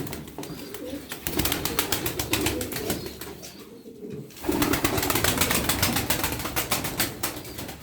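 Tumbler pigeons in flight over Darıca, with wings flapping and clapping in dense rapid bursts and soft cooing throughout. The sound drops briefly midway, then returns loud and close.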